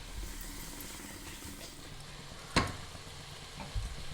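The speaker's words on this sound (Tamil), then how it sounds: "எல்லாம் நல்லா பரட்டி விட்டுட்டேன்." Onions, dried red chillies and green chillies with masala fry and sizzle in a pan for prawn dum biryani, with a steady low sizzle and one sharp stirring scrape partway through, no talking.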